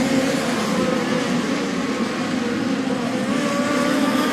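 Midget race cars of the POWRi National Midget League racing on the Lincoln Speedway dirt track, a loud, steady roar of several engines at full throttle, droning nearby without a break.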